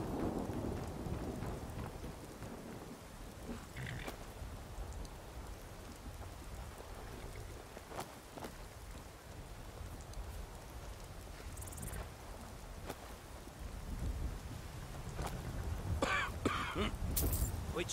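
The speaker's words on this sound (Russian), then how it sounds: "Почему все время идет дождь?" In the video game Skyrim, a thunderstorm keeps heavy rain pattering continuously while thunder rolls in and out, with scattered sharp knocks and clatters over the steady downpour.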